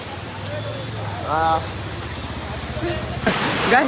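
Ambuli Falls waterfall gives off a steady, close rushing roar that fills the background, with a brief voice rising over it midway and a louder burst of noise near the end.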